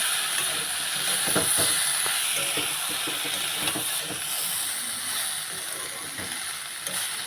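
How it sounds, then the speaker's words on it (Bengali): Vegetables such as pumpkin stems, papaya and potato sauté with chili powder in a pan, giving a steady, even hiss and sizzle throughout, with faint scraping now and then. "লঙ্কার গুঁড়ো দেবো দিয়ে ভালো করে কষিয়ে নেব"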